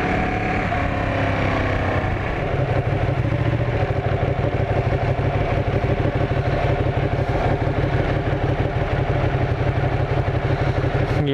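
A Ducati 959 Panigale idles at a traffic light, its engine a steady, loud, close low rumble with fine rhythmic pulsing that holds evenly throughout, no talk over it.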